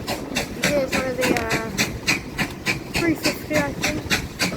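A steam train on the Severn Valley Railway near Kidderminster chuffs in steady rhythmic puffs with hissing steam and clanking, fairly close, while a voice talks over it.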